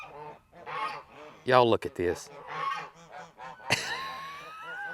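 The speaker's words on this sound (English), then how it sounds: "Y'all look at this goose parade." Geese honk loudly and repeatedly, several birds calling close by in overlapping bursts, with a person speaking briefly over them.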